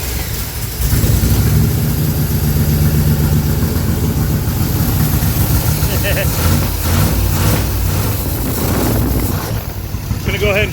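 A carbureted 1968 Camaro engine, long stored in a barn, runs at a steady, unadjusted idle, a loud continuous low rumble throughout while people talk over it.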